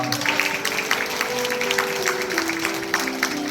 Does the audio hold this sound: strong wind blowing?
no